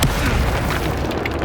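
A Confringo fire-blast spell going off in Hogwarts Legacy, a loud, close, rumbling boom with a broad crackling burst that fills the short moment alone.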